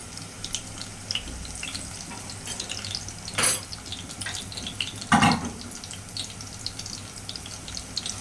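Chopped onions frying in a pan give a steady low sizzle, broken by two louder scraping bursts as they are stirred. No one speaks.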